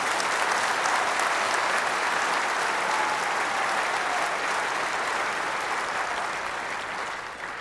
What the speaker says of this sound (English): let's begin by giving Dennis Prager a round of applause and welcoming him.